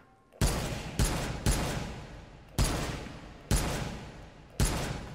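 Six loud, sharp rifle shots from an M1 Garand in a VR shooting game, spaced irregularly about a second apart, each with a booming decaying tail and no talk between them.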